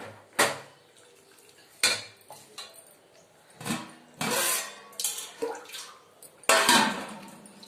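Metal pots, pans and utensils clatter and clank in a series of sharp, close knocks with short gaps while curry is cooked in a home kitchen, with a faint trickle of water between the hits.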